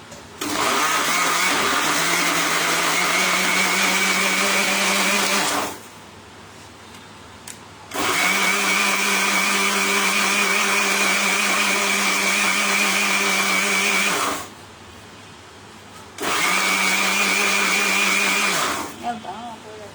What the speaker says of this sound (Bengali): আমার এই ব্লেন্ডারে একটু প্রবলেম আছে, তো এটা এখন আমরা কিন্তু ভালো মতো ব্লেন্ড করে নেব